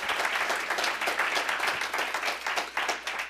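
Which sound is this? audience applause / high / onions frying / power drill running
audience applause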